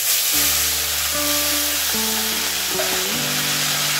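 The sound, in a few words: boiled chowmein noodles sizzling as they are stir-fried in a wok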